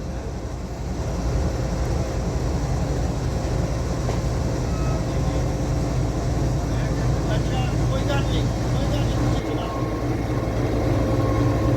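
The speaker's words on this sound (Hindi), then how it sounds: "GEU40 अपनी स्पीड पकड़ते हुए प्लेटफॉर्म नंबर 2 से रवाना हो रहा है।" A GEU40 diesel locomotive pulls away from platform 2 at Lahore station, producing a loud, steady rumble and engine drone for the whole stretch, with voices faintly mixed in.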